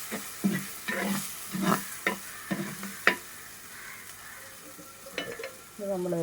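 Fish curry masala paste fries in oil under a steady sizzle, broken by rhythmic scraping stir strokes of a spoon in the pan, close and moderately loud.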